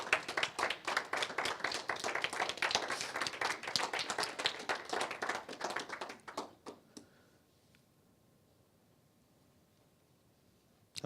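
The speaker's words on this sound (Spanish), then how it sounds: "damos un fuerte aplauso al Señor por nuestras ofrendas" A congregation stands and claws out a strong round of clapping in a church service, dense and steady for about six seconds before tapering off into near silence.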